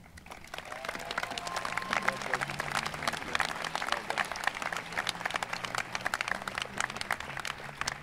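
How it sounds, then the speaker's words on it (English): Sustained audience applause fills a convocation hall, dense clapping from many hands continuing steadily throughout, with a low murmur of voices beneath. "One more round of applause"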